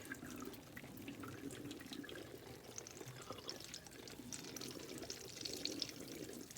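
Water is poured into a sink drain, a soft continuous gurgling stream with splashing, fairly faint and even throughout, with no talking.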